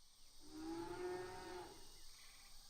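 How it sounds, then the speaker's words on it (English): A single drawn-out moo from a cow in a video game, heard clearly and alone against a quiet background. It swells in the middle and then fades. "there are even a few cows out there doing their cow thing"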